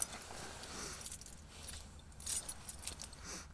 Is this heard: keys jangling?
yes